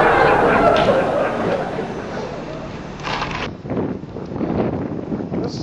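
Strong gusts buffet the microphone outdoors during heavy snowfall, a loud blustery rumble that eases slightly midway before surging again, with faint voices beneath.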